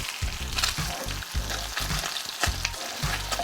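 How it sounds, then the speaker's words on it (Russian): Crucian carp frying in a pan, a steady hiss of sizzling oil with repeated stirring and scraping bursts as the fish are turned, close and fairly loud with no voices. "у нас прям очень хорошо здесь прижариваются карасики"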